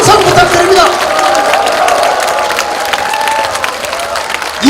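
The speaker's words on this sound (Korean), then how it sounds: "여러분 큰 박수와 항상 부탁드립니다." A large crowd at a Korean politician's 2024 legislative report rally in Yeongju fills the hall with loud, sustained applause and cheering, a dense continuous roar of clapping with voices mixed in.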